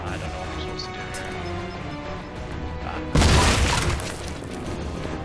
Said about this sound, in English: that explosion certainly didn't make them curious